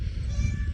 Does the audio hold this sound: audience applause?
no